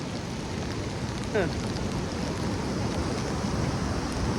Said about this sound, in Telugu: వర్షం మాత్రం ఏకదం పడుతూనే ఉంది.